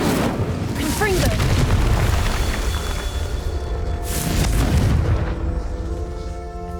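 Explosive Confringo spell blasts in the Hogwarts Legacy video game: two deep, loud booming bursts about three seconds apart, each rumbling out over a steady game backdrop.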